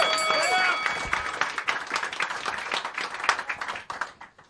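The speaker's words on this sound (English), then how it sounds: "Clap your hands" Audience clapping at a comedy roast battle, a burst of applause that starts full and thins into scattered claps, with whoops and a voice over the top.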